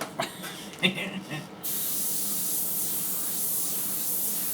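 An airbrush sprays water-based Auto Air paint. After a few brief knocks and handling noises, a steady, close, even hiss runs uninterrupted to the end.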